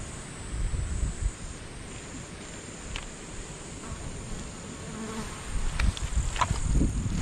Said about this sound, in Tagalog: May langaw na.